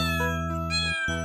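Cartoon cats meow in a children's nursery-rhyme song about a fire engine, drawn-out tonal calls over a steady musical background.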